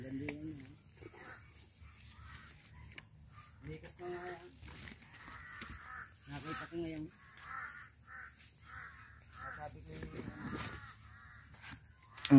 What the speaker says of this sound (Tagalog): Ang ingay ng uwak.